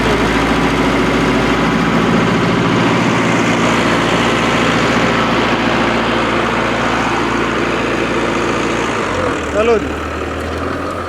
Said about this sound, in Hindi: देख सकते हो आप डीजल सेवर मोड में ट्रैक्टर चल रहा है